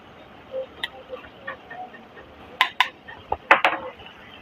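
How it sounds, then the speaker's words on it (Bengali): A utensil stirs ash gourd with green chilies, cumin powder and ginger paste in a pan, giving light scraping with several sharp metallic clinks toward the end, close by and without talk. "এবার আমি চাল কুমড়োটাকে ঘেটে নেব"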